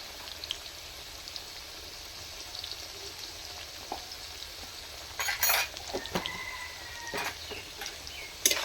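Green banana and potato pieces fry lightly in hot oil, giving a soft steady sizzle that grows into sharper crackling bursts toward the end, quiet and close with no talk.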